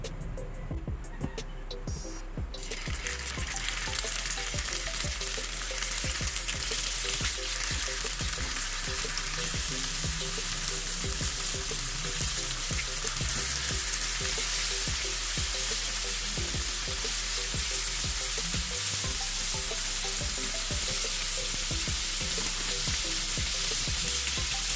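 Tofu fries in hot cooking oil in a pan, a dense, even sizzle with constant crackling pops that starts after a brief quieter moment and carries on steadily at close range without talk.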